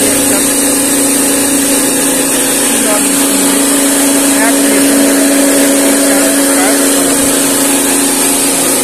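A combined rice mill machine with an 8HP power trailer and 4HP copper motor runs loudly and steadily, a dense continuous mechanical drone with a strong hum and hiss, close and unchanging throughout.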